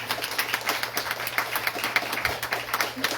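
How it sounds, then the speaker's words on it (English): Scattered clapping from a gathering at a spiritual satsang session, faint and fairly thin, with a steady low hum underneath. "Big round of applause."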